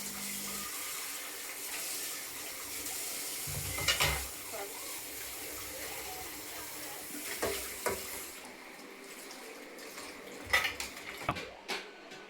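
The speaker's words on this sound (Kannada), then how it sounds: "ಆ ಪ್ಲೇಟ್ಸ್ ಎಲ್ಲ ವಾಶ್ ಮಾಡಿ ಇಟ್ಬಿಡೋಣ" Plates being washed at a kitchen sink, with running tap water, dish and cutlery clatter and a few sharper clinks near the end, steady and fairly quiet with no talk.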